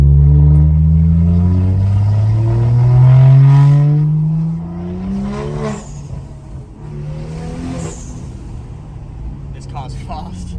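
A BMW engine with an MHD Stage 2 tune revs and accelerates hard in Eco Pro mode, its pitch climbing steadily before easing off into a quieter cruise, with talking over the later part.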